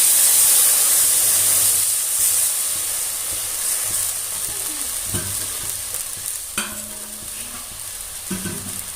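A loud steady hiss of water poured into a hot pan of washed barnyard millet, sizzling strongly at first and slowly fading, with a few clinks of utensils near the end.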